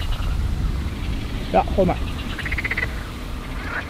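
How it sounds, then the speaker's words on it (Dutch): Frogs croak by the water at a pike-fishing spot, a steady rhythmic chorus in the background while someone talks briefly over it. "Wat een geluid met die kikkers"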